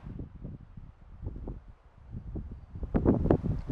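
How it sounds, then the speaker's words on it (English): Gusty wind buffets the microphone at a motorcycle campsite, rising and falling in uneven rumbling gusts that swell strongest near the end, with no talking. "Figures here comes the wind."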